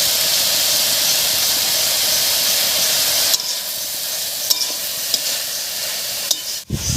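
Banana flower and potatoes are stirred in a frying pan, giving a steady loud sizzle and hiss. Halfway through the frying dies down, and a few scraping clicks of the spatula follow.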